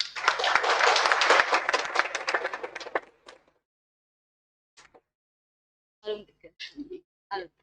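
An audience at an industry-academia event claps for an arriving speaker, a loud burst of clapping lasting about three seconds that cuts off abruptly, followed by silence and then a few spoken words nearby.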